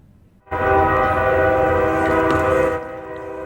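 A train horn blasts a long, loud, sustained chord at a downtown railway crossing in Muncie, starting abruptly and cutting off after about two seconds, followed by a low rumble of the passing train.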